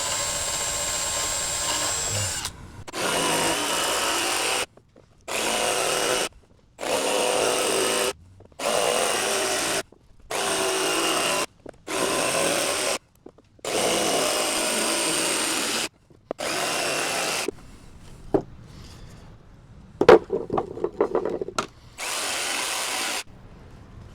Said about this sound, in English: So now we're just going to drill a pilot hole over here so I can start the jigsaw.